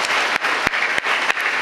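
An audience in a college hall claps through a speech event, producing dense, loud applause with a few sharper bangs standing out from the steady patter.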